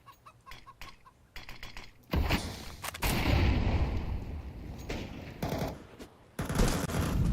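Gunfire from the Counter-Strike 2 shooter, heard in a Latvian qualifier match, comes as sparse early shots followed by denser bursts, loud and close.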